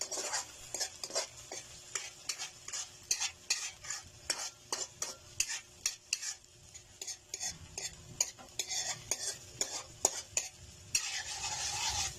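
Beaten eggs poured over sardines sizzling in a frying pan, with a steady hiss broken by frequent sharp scrapes and clinks of a utensil stirring against the pan, close and fairly loud throughout.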